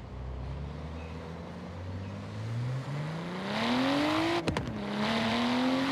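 A Nissan GTR race car in a racing video game revs up with a rising engine note, then a sharp cluster of backfire pops cracks out before the engine settles back into a steady drone.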